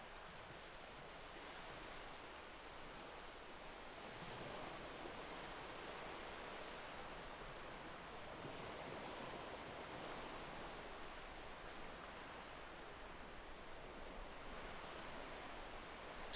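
Soft ocean waves wash gently and continuously onto a serene beach, a faint, even surf with slow swells and no voices.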